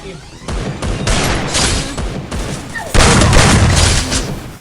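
Rapid bursts of video game gunfire fill the whole stretch, loud and dense, with heavier blasts toward the end, while voices are faintly mixed in underneath.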